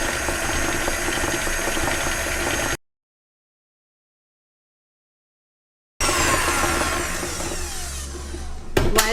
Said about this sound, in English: while whisking on a medium-high speed, add the rest of the condensed milk